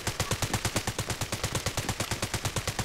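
Rapid automatic gunfire in a first-person shooter video game: a fast, even string of sharp shots, loud and close, continuing without pause.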